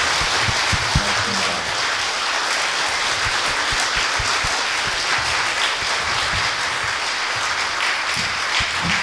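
Warm audience applause at a concert event honouring a bishop, a dense, sustained clapping from a large crowd that carries on for the full nine seconds, close and loud.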